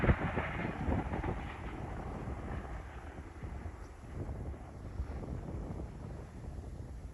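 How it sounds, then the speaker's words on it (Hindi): The 2 Down Khyber Mail, hauled by ZCU-30 locomotive 6314, races at high speed through Ranpethani railway station in Thatta, Sindh. It makes a steady, loud rolling rumble heavily buffeted by wind noise on the microphone, with no speech. "आज की हमारी 2 down Khyber mail ZCU 30 6314 root पर था और बहुत ही ज़बरदस्त रफ्तार में गुजरी है रन फिटानी रेलवे स्टेशन से।"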